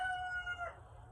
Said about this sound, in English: that was the contribution from Arnold the rooster